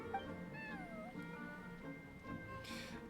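A cat in the Genshin Impact Feline Fortress Furrdyssey event gives several faint, rising and falling meows over a quiet game background.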